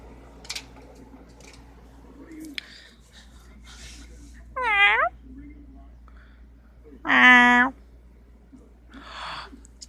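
Kittens meow indoors, with two distinct loud, close mews rising and falling in pitch a few seconds apart, plus fainter squeaks and rustling around them.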